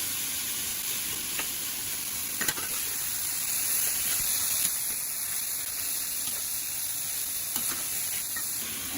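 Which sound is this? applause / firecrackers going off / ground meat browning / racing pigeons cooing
ground meat browning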